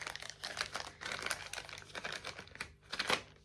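Plastic wrapping crinkles and rustles in a few close bursts as a package is pulled open, quiet with brief gaps between handlings.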